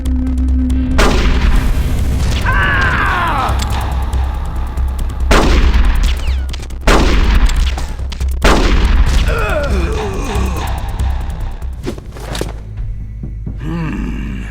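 Gunfight in the video game Metal Gear Solid: The Twin Snakes: loud repeated gunshots and booming blasts in bursts, with grunting voices and game effects mixed between shots.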